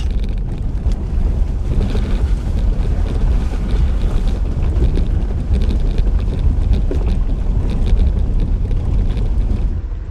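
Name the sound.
overland vehicle driving through a water crossing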